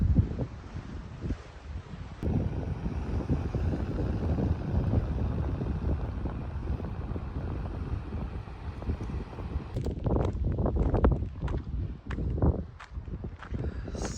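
Gusty wind at Patara beach in Turkey rumbles and buffets the microphone steadily, with scattered crackling and thumping noises breaking through toward the end.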